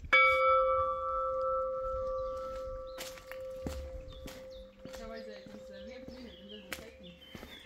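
A bell rung outdoors on a walk near Rethymnon, several sharp metallic strikes with ringing tones that fade away, heard among footsteps, bird chirps and people talking nearby.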